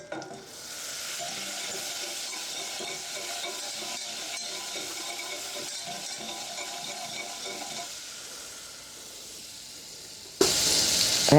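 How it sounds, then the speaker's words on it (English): Butter melting in a pan, a steady soft sizzle and hiss with faint crackles running throughout, followed at the end by a sudden brighter, louder burst of sizzling. "we're going to get this butter melted"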